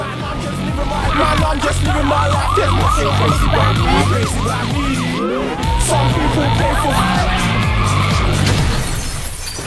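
A police car siren wails in rapid repeating sweeps during a film car chase from Kingsman, loud and close, layered with screeching tires and engine noise.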